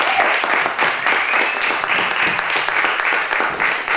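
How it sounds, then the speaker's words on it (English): An audience at an evening event breaks into a sustained round of clapping, dense and even for the full few seconds, with no voices over it. "another big round of applause"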